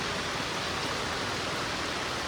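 Heavy rain pouring down in Bhavnagar, a dense, loud, unbroken hiss of water with no pauses or voices.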